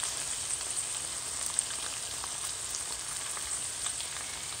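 Garam masala stirred into frying mutton, heard as a soft, steady sizzle with faint crackles and light stirring, fairly quiet and with no voices.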